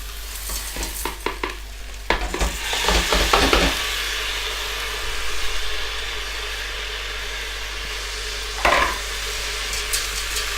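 Dried lentils stirred into a soup pot, a loud sizzling bed with bursts of scraping and rattling stirs early on and another brief scrape later.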